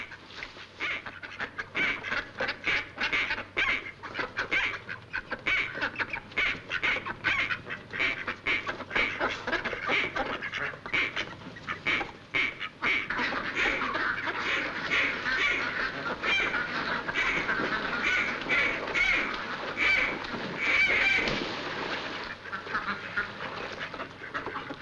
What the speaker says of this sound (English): Cut out that quacking.